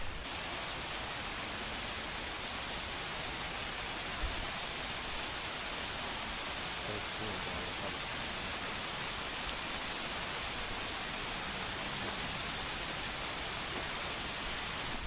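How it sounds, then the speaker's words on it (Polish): Steady rain falls during an outdoor walk on a wet Sunday, a dense, even hiss that holds at the same level throughout with no talking. "Ej, powiem wam, że mocno gruby ten deszcz"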